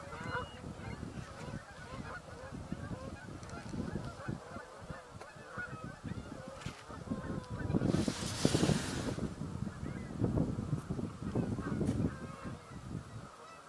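A distant flock of snow geese honks continuously, faint and layered, over steady wind and a brief rush of noise in the middle.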